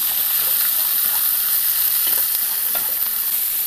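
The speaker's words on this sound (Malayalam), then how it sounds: "അതിലേക്ക് സവാള ഇട്ട് കൊടുക്കാം. സവാള നന്നായിട്ടൊന്ന് മൂത്തെടുക്കണം." Sliced onions fry in hot oil in a pan for egg biryani, giving a continuous, even sizzle with faint scraping of stirring, close and alone.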